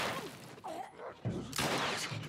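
Gunfire from a gun in the video game The Last of Us Part 2: a couple of sharp, loud shot bursts land late in the clip over a busy game soundscape.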